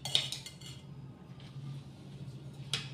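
A small spoon clinks against a pan or container while ghee is added, making a few sharp metallic taps at the start and end over a low steady background hum.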